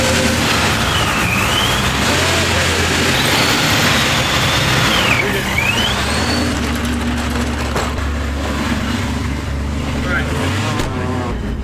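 A chassis-swapped Mustang's engine runs steadily up close for its first drive, a constant loud drone with a whining tone that rises and falls, while people talk over it.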